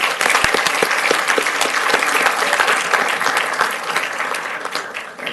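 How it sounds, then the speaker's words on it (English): A crowd breaks into loud, sustained applause, many hands clapping at once and gradually thinning toward the end. "Let's give him a round of applause."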